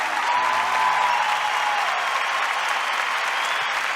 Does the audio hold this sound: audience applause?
yes